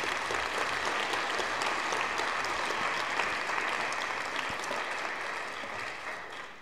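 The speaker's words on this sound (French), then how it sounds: "je vais vous demander d'applaudir vos intervenants" Conference audience applauding the panel speakers at a round-table discussion, steady sustained clapping from a large crowd that fades slightly toward the end, no talking over it.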